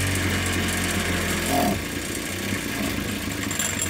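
A Ryobi 410 cultivator's small petrol engine turns over and sputters loudly and steadily, a mid-pitched running rumble that briefly surges and then settles to a rougher, lower churn, with no voices.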